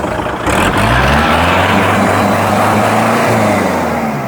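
Kubota L4708SP four-cylinder four-wheel-drive tractor engine running at a used tractor dealership, a steady low diesel drone with a rough mid-range rumble that holds at one level throughout, with no voices heard.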